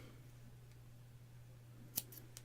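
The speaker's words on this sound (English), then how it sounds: "And then snip it off" Scissors snip off a yarn end after a row of single crochet, two or three quick crisp cuts close up near the end, heard against a quiet room with a low steady hum.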